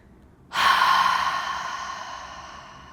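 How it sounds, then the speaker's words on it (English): A yoga cleansing breath: a forceful open-mouthed exhale on an HA after a nasal inhale, starting abruptly, loud and close, then trailing off slowly as a long breathy sigh. "We'll breathe in through the nose all the way to full. And then exhale through the mouth on an HA."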